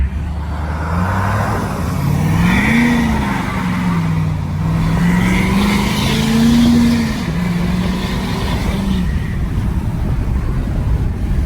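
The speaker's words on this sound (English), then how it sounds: "we might have to just take off a little faster than normal" A 2017-2019 Ford F-250 pickup, tuned, accelerates hard from inside the cab, its engine drone rising and falling through gear changes, loud and steady for the whole stretch with road noise beneath.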